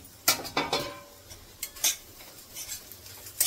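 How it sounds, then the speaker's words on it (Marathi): A spoon stirs okra with masala in a pan, making a series of quick metallic scrapes and clinks at irregular intervals, fairly close and moderately quiet. "चांगला मिक्स करून घेते बघा"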